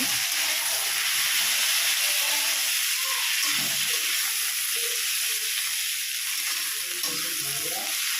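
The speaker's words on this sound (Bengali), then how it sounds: "পেঁয়াজ ভাজা হয়ে গিয়েছে, আমি দিয়ে দিচ্ছি কুচিয়ে রাখা টমেটোগুলোকে।" Chopped tomatoes added to browned onions sizzle in a hot pan, a loud, steady hiss with soft stirring scrapes running throughout.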